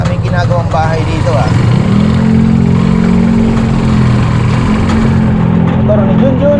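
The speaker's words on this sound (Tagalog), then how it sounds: "Motor ni Junjun yan." A motorcycle engine runs close and loud at a steady drone, with a rough pulsing note that holds throughout while people talk over it.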